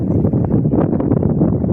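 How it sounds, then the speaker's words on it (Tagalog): Heavy wind rumbles and gusts against the microphone in a steady low roar after a sandstorm, with no voices. "Grabe ang lakas ng hangin."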